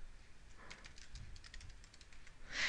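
A computer keyboard typed on in short quick bursts of light clicks, fairly quiet and close, with a louder key press at the very end.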